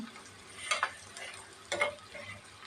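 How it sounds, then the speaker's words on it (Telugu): Onions sizzle in a pan for spinach dal tempering, a soft continuous crackle punctuated by two short bursts of stirring and scraping. "ఎర్రగడ్డలు బాగా ఎగాలి ఎగితే మంచి టేస్ట్ వస్తుంది"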